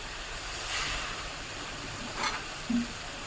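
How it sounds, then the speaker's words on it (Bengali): Spice paste with chilli powder and a little water cooks down in a pan for a Bengali katla kalia, a faint steady sizzle with soft stirring scrapes and a couple of small clinks. "দিয়ে আমি মশলাটাকে খুব ভালো করে কষিয়ে নেব।"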